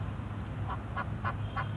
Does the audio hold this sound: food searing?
no